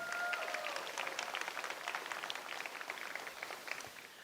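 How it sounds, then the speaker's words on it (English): An audience at an FRC robotics event, the Sunset Showdown, claps for the sponsors, a dense patter of many hands at moderate distance that stays steady and fades slightly toward the end. "Let's have a huge round of applause for all the Sunset Showdown sponsors"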